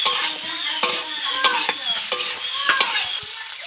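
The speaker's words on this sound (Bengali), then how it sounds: "একটু ভালো করে কষিয়ে নেব।" Vegetables, including previously fried cauliflower and potato, stir-fried in a pan, with a steady sizzle and repeated scraping clatters of a spatula stirring throughout.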